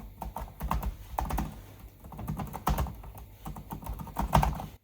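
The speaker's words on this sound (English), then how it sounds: "So let me type on it a little bit." Rapid keystrokes clatter on an HP 15 (Ryzen 5) laptop keyboard in uneven bursts, close up and fairly quiet, with no talking.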